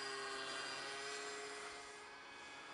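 A remote-control C-47 model airplane, a twin-prop scale model, makes a half-throttle pass with a steady droning engine hum that fades slightly as it moves away, with no talk.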